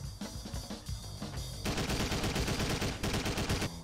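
Gunfire in the video game Driver 3: sharp single shots at first, then a dense rapid burst of automatic fire that rattles loud and close before easing off.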